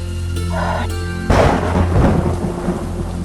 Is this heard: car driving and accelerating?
no